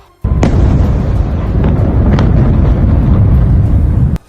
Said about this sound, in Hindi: तेल अवीव और उसके आसपास के इलाकों में इतने भयंकर विस्फोट हुए